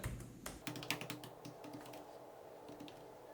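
Typing on a computer keyboard: a close, quiet run of quick key clicks in irregular bursts, fading to sparse taps, with no voices.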